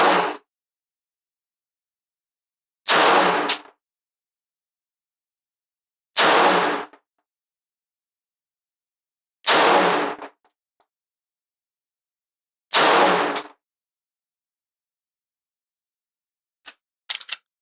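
A handgun at a range fires five loud, isolated shots at a target, evenly spaced about three seconds apart with silence between, followed by faint small clicks.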